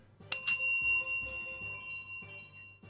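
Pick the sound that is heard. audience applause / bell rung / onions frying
bell rung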